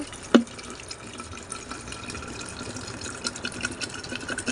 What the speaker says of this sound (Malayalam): നമ്മൾ ഇത്തിരി തണുത്ത വെള്ളം കൂടെ ചേർക്കുകയാണ്